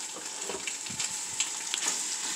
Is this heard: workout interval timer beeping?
no